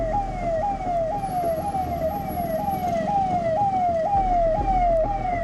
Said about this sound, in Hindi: इस ट्रैफिक जाम में एक एम्बुलेंस भी फंस गई।